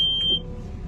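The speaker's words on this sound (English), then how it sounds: "Lots of sensors, lots of beeping." A single short, high electronic beep from a sensor in a farm loader cab, cutting off after a moment and leaving a low engine rumble.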